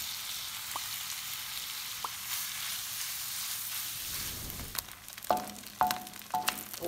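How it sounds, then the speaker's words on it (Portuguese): Bacon fries in a heated pan with a soft, steady sizzling hiss, joined toward the end by sharper pops and crackles, fairly quiet and with no talking. "Coloquei minha panela aquecer e vou fritar o bacon."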